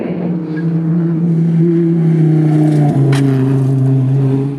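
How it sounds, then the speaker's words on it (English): Race car engine at Bathurst in Project Cars 3, droning loudly and steadily at high revs down the straight, with a brief dip like a gear change midway and no talk over it. "Throttling up and blasting down the straight at Bathurst"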